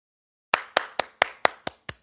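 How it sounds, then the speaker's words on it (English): Seven crisp hand claps ring out close and clear at an even, brisk pace after a short silence, each one sharp and quickly fading. "I don't know if y'all can hear me clapping"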